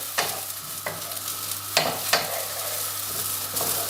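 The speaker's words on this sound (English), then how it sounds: "Get the wee bit of sizzle right away." Food frying in a hot non-stick pan with a light spray oil while fried rice is made, a steady close sizzle broken by several sharp clatters and scrapes of stirring, with no talk.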